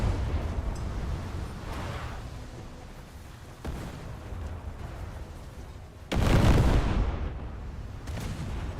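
A warship detonating in World of Warships, heard as loud booming artillery-like blasts and rumbling explosions, with one big broadband burst standing out partway through over continuous battle noise.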